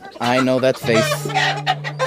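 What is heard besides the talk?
chickens in a chicken coop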